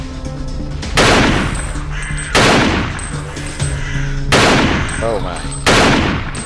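Sniper rifle shots in a zombie survival video game, four loud sharp blasts spaced over several seconds, each with a ringing tail; a voice briefly exclaims between shots.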